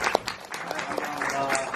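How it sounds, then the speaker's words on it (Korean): A theatre audience applauds during a post-show talk for the play, a dense, fairly loud patter of clapping with voices talking over it. "박수 한번 부탁드리겠습니다."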